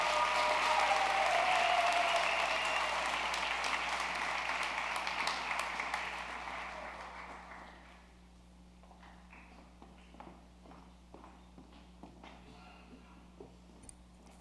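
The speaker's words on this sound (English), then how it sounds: "Congratulations and a round of applause to these students." An audience at a World Language National Honor Society induction ceremony applauds the inductees; full clapping for about seven seconds fades to sparse claps and quiet room noise.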